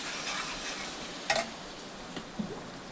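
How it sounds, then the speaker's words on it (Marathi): Masala with turmeric, homemade spice mix, chilli and coriander-cumin powder fries quietly on low gas for a prawn curry, a soft sizzle broken by a few scrapes of the stirring spoon against the pan. "आता छान असं बारीक गॅसवर परतायचं आहे मसाला."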